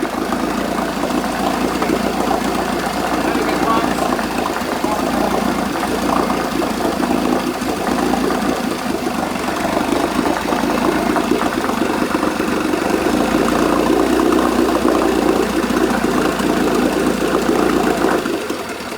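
A 1980 Chrysler Sea King 15 horsepower outboard motor running steadily, a loud continuous droning engine with a rapid knocking pulse, close and unbroken for nearly twenty seconds before cutting off at the end.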